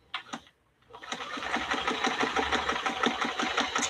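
A vintage Kenmore sewing machine starts after a couple of brief clicks and a short pause, then runs a stitch with a fast, steady mechanical chatter that stays loud and close.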